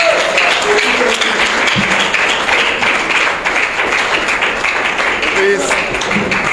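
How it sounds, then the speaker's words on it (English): Audience applause after a Peter Obi speech about Nigeria, sustained clapping mixed with crowd noise and some voices, fairly loud and continuous. "Please, another round of applause."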